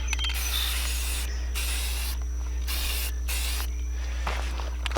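Aerosol spray paint hissing in several bursts as black coats go onto wood screws for a black pipe staircase handrail, close and steady with brief pauses between sprays.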